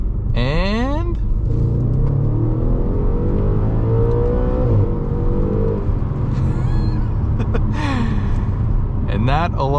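A 2014 Audi RS5 Coupe accelerates hard from about 25 mph, its engine roaring loudly and continuously with rising and falling revs, while voices exclaim over it now and then.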